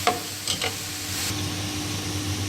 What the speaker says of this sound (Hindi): और अब इसमें हम डालेंगे सफ़ेद सिरका, और इसको करेंगे अच्छी तरह मिक्स